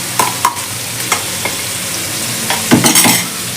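Ginger garlic paste frying with softened tomatoes in a pan, a steady loud sizzle broken by repeated scrapes and knocks of a spoon stirring, with no talking.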